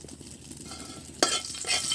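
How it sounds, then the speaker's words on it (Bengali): Whole cumin and dried chillies fry in hot oil in a wok, giving a steady low sizzle with stirring scrapes and a sharper, louder burst of crackle partway through, with no voices. "এখন আজকে জিরাটাকে সুন্দর করে ভেজে নিতে হবে"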